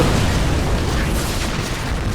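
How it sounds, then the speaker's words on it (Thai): An explosive barrel is blown up by gunfire in the Far Cry 3 video game, a loud, dense, sustained roaring blast that fills the whole clip with no talk. "ยิงถังระเบิดไปเลย"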